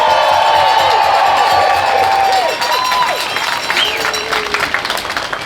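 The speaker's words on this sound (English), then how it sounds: "Give yourselves a round of applause" A large crowd at a No Kings protest rally in Everett, Washington applauds and cheers in a loud, sustained roar, with whoops and shouts rising over the clapping before it slowly thins.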